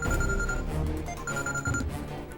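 A telephone rings in a tense crime-movie scene, an incoming call from a lawyer: a steady electronic ringing in two bursts with a short gap between them, loud and close over low background music.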